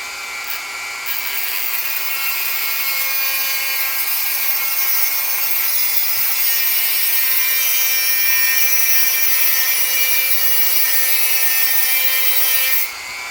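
Dremel rotary tool running steadily for about 13 seconds, a loud, continuous high-pitched whine with no talking, used to work around a tripod while building arrow test kits.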